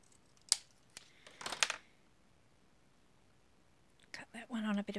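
Scissors snip through paper while cutting out paper keys: a couple of sharp, close snips and a brief crunching cut, then a quiet gap before a voice speaks.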